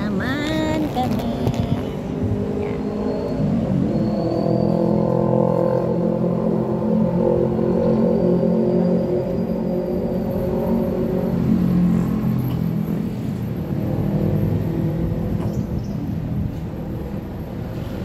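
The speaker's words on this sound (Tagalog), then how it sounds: "May mga dumadaan ng mga sasakyan." Vehicles passing along a road outside, a steady near rumble of engines that swells and fades as traffic goes by, with a brief clatter at the start.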